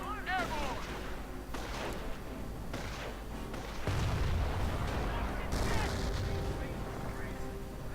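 Gunfire from a real-time strategy game, with dense bursts of shots and booming artillery-like blasts repeating throughout, heaviest past midway, while a voice commentates over the top.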